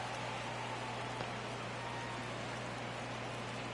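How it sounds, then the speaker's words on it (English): Steady rain falls in a Los Angeles night baseball game in an MLB video game, a constant dense hiss with a low hum underneath and no break, no voices. "We got a steady rain coming down here in Los Angeles."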